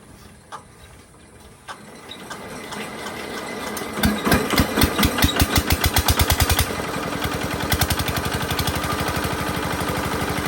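A diesel engine cranks and catches, its rhythmic knocking firing building in loudness, then settling into a steady, close, clattering idle.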